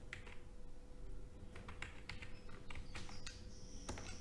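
Keystrokes on a computer keyboard come as a quick run of soft, close taps and clicks in an uneven rhythm over faint background hum, with no talking.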